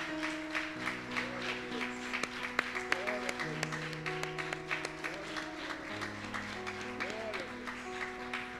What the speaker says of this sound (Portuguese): dê uma calorosa salva de palmas para Jesus